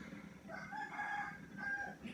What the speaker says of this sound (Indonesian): jangan heran kalau kamu dengar bunyi ayam berkokok